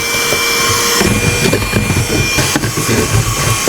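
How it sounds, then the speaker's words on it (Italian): A vacuum cleaner runs steadily at close range while tidying a model railway layout, a loud continuous whoosh with shifting suction noise and small clatters of debris, no talking. "ora andiamo a dare una pulita con l'aspirapolvere."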